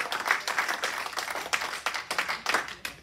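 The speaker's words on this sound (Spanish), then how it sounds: "Alguien le dé un aplauso de alabanza a nuestro Dios" Church congregation clapping in praise to God during a worship service, a dense sustained burst of many hands with uneven peaks, fairly close and continuous.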